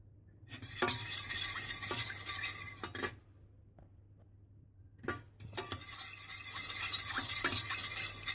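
A utensil stirs agar agar into fruit juice in a bowl, giving quick scraping, clinking strokes in two close bursts separated by a few quiet seconds.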